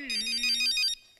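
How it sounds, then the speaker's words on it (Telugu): A phone ringtone plays a bright, repeating electronic melody, close and clear for about a second before cutting off, with no talking over it. "ఈ టైంలో ఫోన్ ఏంటి?"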